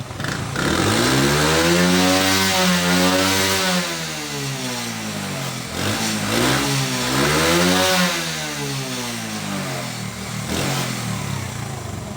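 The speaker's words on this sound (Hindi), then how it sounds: "मैंने इसको रेस दी और इसका चेक किया कि इसमें ज़्यादा एग्जॉस्ट है" A Honda CD70 70cc motorcycle engine being tuned for its air-fuel mixture revs loudly and steadily, rising and falling in pitch through two long swells before settling into a high idle, close by with no talk.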